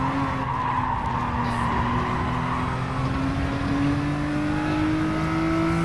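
A race car corners hard on soft tires in a manufacturer cup race in Alsace, with a steady loud engine drone and continuous tire squeal and skidding throughout.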